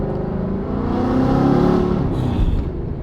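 A 2020 Shelby GT500 or 700+ hp wide-body Terlingua Mustang engine revs loudly while driving, a steady throaty roar that swells in the middle and stays close and continuous throughout.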